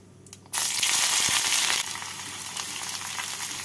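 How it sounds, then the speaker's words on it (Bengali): Four medium chopped onions hit hot oil already tempered with white cumin and bay leaves, setting off a sudden loud, steady sizzle that eases slightly after a second, with faint clicks of stirring underneath and no talking. "এবার এর মধ্যে আমি দিয়ে দিচ্ছি 4টে মিডিয়াম সাইজের কুচনো পেঁয়াজ।"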